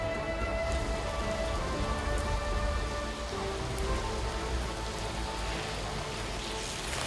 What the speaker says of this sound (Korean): 오늘 비가 와가지고요.